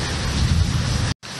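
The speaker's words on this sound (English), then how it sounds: "this thunder is waking the house" Heavy rain pours with a deep rumble of thunder beneath it, loud and continuous before cutting out abruptly near the end and briefly returning.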